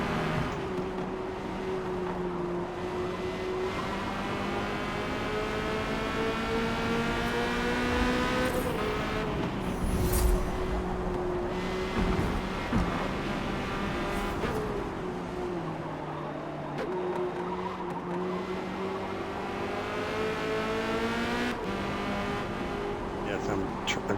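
A Corvette C8.R race car engine in a racing video game at the Hakone GP circuit, loud and continuous, with revs climbing and dropping through gear changes and braking zones.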